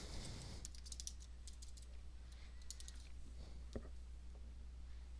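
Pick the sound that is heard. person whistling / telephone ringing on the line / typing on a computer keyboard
typing on a computer keyboard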